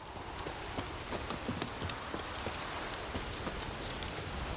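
Steady rain falls in a video game scene from The Witcher 3, a dense, continuous patter of drops on the ground, even and close, with no voices over it.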